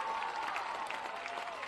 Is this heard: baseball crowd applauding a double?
yes